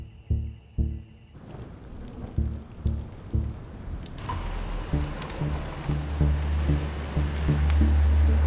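Someone thrashes about in water, sending up a close, continuous wash of splashing with repeated heavy sloshes and surges that grow louder toward the end.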